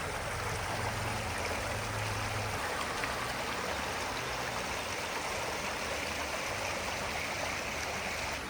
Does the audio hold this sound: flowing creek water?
yes